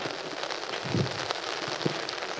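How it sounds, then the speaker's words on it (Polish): Rain falls steadily during an open church meeting, a dense even patter with occasional louder drops, with no talking. "Dziękujemy Bogu za ten deszcz mimo wszystko?"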